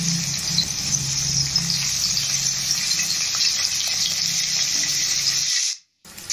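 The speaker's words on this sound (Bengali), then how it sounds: "পনির ভাজা হয়ে গেছে" Paneer pieces shallow-frying in a spoonful of oil with turmeric and salt, a close, steady sizzle with stirring scrapes and light spitting that ends abruptly near the finish, no voices.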